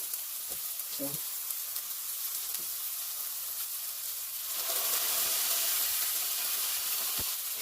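A burger patty frying in a pan for a home-made cheeseburger gives a steady, close sizzle throughout, growing slightly louder and hissier in the second half, with a few faint clicks of utensils.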